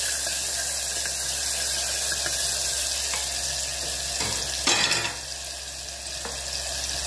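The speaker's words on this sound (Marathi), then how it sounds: "आता यामध्ये मी आळा लसूण मिरचीची पेस्ट घालून घेणार आहे आणि मस्त असं फ्राय करून घेणार आहे तेलावर" Ginger, garlic and green chili paste frying in hot oil makes a continuous close sizzle, with a louder crackling burst partway through before settling back to a steady hiss.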